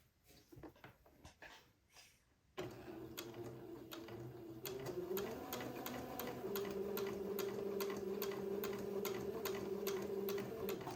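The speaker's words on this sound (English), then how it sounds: "just to hold the facing in place with straight stitch, I'm going to sew a little 1/8 inch hem" A home sewing machine runs a straight-stitch 1/8-inch hem along the facing edge of a boy's white button-on suit shirt, a steady rapid ticking drone after a few short starts, close and fairly quiet.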